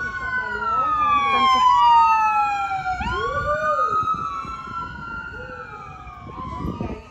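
A wailing emergency siren rises and falls in long sweeping tones, fairly close and loud, with road rumble underneath.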